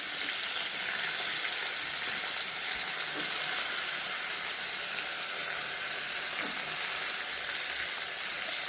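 Large onions sizzle steadily in a hot pan over medium flame, a continuous close hiss of frying with no voices, the texture shifting slightly as they are stirred.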